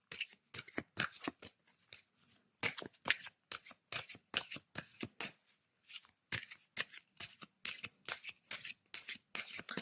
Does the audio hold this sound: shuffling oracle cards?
yes